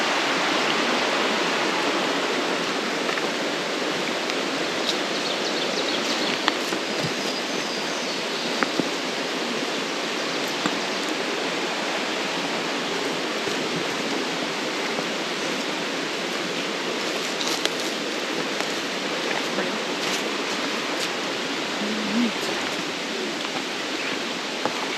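Creek water flowing steadily over rocks and fallen limbs on a wooded hiking trail, a constant rushing wash that stays loud and even throughout with no voices.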